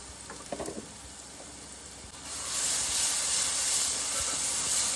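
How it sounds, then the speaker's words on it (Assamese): Chicken with chicken masala, meat masala and salt frying in oil: a quiet start with a few soft clatters, then a loud, steady hissing sizzle that swells and holds close by. "ধুনীয়াকৈ লাৰি তেল বাহিৰ হোৱাৰ লাগি ফ্ৰাই কৰি ৰাখিম"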